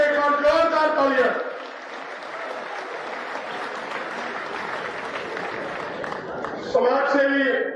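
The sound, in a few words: crowd applause at farmers' rally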